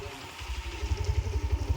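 A motorcycle engine runs near a pump house at Ranganayak Sagar, a low, throbbing idle that pulses faster and louder toward the end.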